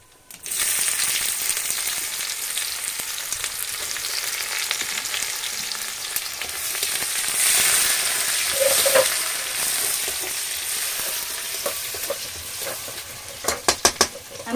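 Bay leaf and chopped onion frying in a pan for a Sundarbans-style shukto, giving a steady loud sizzle with stirring scrapes throughout and a few sharp clatters near the end.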